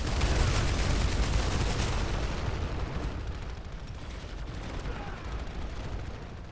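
Dense, continuous gunfire and explosions from a Planetside 2 battle, a loud barrage of overlapping shots and blasts that fades slightly after the first couple of seconds, with no talk over it.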